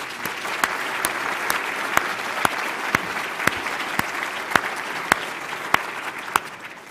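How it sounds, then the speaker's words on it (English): An audience at a formal annual meeting claps steadily for fellows and scholars, a dense even patter of applause that holds at a moderate level throughout, with a few sharper individual claps standing out. "let's give them one more round of applause"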